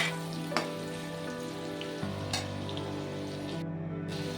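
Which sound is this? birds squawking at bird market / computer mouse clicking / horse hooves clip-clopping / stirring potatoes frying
stirring potatoes frying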